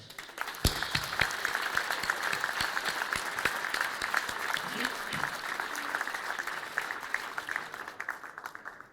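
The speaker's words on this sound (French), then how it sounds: "Je crois que tous ces bénévoles méritent un tonnerre d'applaudissements." At a mayor's New Year address, the audience breaks into steady, dense applause for the volunteers, an even wash of clapping lasting throughout.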